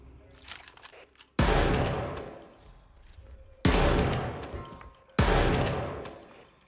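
Three loud, booming gunshots in the video game Hitman: World of Assassination, each a sharp blast with a long decaying tail, spaced about two seconds apart, with faint game ambience between them.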